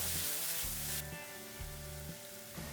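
Chopped tomatoes with salt sizzling in a pan while cooking down for paneer rava dosa, a steady soft frying hiss with a low tonal hum running underneath.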